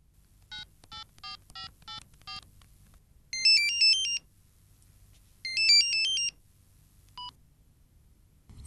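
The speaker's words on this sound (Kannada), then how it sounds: "ಅರೆ ರಾಕೇಶನ್ ಫೋನ್ ನಂಬರು, ಎಷ್ಟು ದಿವಸ ಆದ್ಮೇಲೆ ಯಾಕೆ ಫೋನ್ ಮಾಡಿದ್ದ?" A phone dials with a quick run of short keypad beeps, followed by two loud bursts of electronic ringing separated by a pause and a final single beep, all in a quiet room.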